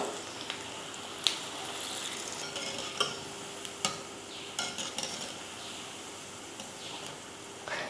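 Kara vada batter dropped into hot oil sizzles steadily with a bright, crackling hiss, broken by a few sharp scrapes and clicks of a ladle against the pan, with no voices.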